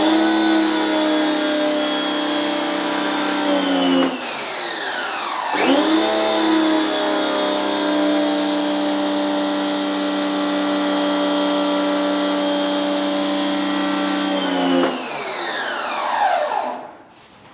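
A Giraffe Tools wall-mounted pressure washer's motor whines loudly and steadily, winding down briefly, restarting with a rising pitch, then running on before spinning down at the end.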